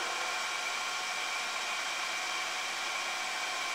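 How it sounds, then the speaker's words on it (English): A GMN MPS 3 H-132 vertical spindle surface grinder runs with only its spindle turning and the hydraulics shut off, giving a steady, loud broadband whir with a faint constant high whine and no change throughout. "I'll shut the hydraulics off and run the spindle by itself."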